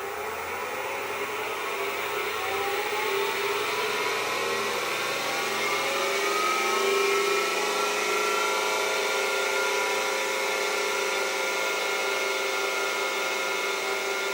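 A wood lathe turns a Manitoba maple pen blank at about 400 RPM, giving a steady, loud whirring drone with a faint rising and falling whine, continuous throughout with no talking.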